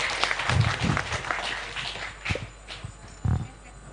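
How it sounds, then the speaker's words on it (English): An audience at an international politics, social sciences and humanities conference claps for the speakers. The applause is moderate and somewhat distant in a hall, with a few louder claps standing out and fading toward the end. "Can we give our biggest applause to the speakers?"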